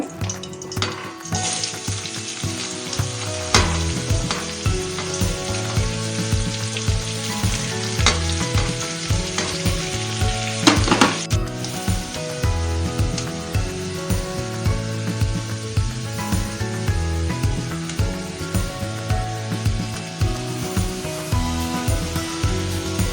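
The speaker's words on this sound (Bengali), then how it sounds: "গাজরগুলো ভেজে তুলে নেব।" Carrots fry in ghee in a pan for fried rice, a dense, continuous sizzle with occasional stirring knocks and scrapes, close and steady, with no talking.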